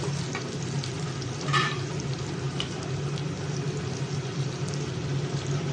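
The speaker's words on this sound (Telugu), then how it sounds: "ఇవన్నీ కలిపి బాగా వేయించుకోవాలి." Dried red chillies and sesame seeds frying in oil for gongura pickle, a steady soft sizzle with occasional stirring scrapes, close and fairly quiet.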